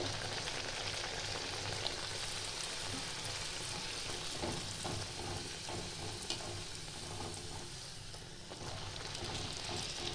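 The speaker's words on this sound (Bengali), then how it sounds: "এইভাবে সবগুলোই ভাজছি আমি।" Pea-stuffed kochuri fry steadily in hot oil in a kadai, a dense, continuous sizzle with faint crackles running throughout at low level, with no voices.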